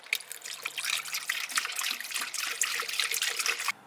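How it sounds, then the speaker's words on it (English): Coolant pouring into the cooling system of a 1JZ-swapped Nissan S13, a steady close trickle of liquid running for about three and a half seconds before stopping abruptly. "Put coolant back in it."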